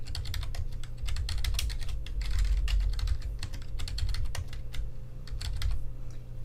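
A login being typed on a computer keyboard, with rapid irregular key clicks over a steady low hum, close and distinct, and no voices.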